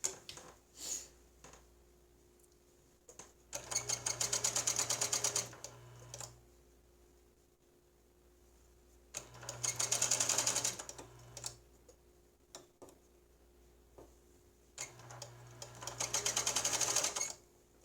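A sewing machine stitches a fabric face mask with a wire sewn into the crease, running in three separate bursts of a few seconds each, with quiet pauses and small handling noises between them.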